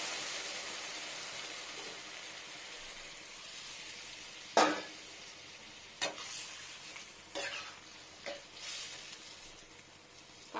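Water meets a hot pan of jackfruit curry with onion and garlic, giving a soft ongoing sizzle broken by several sharp scraping and stirring bursts, close up and quiet overall.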